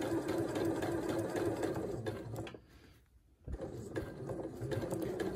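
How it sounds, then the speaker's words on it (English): A sewing machine runs a steady straight stitch along a marked line while sewing small fabric snails, its close, continuous mechanical whir pausing for about a second midway before resuming. "we are just going to do a straight stitch exactly on that line"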